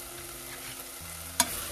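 Spices and salt get stirred in a frying pan over a quiet, even sizzle, broken once by a short clack of the spoon against the pan.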